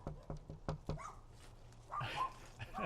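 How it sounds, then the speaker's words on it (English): A pet dog gives several sharp, close barks in a quick run, then lets out whining, whimpering yelps, heard indoors with faint background voices. "There's his dog."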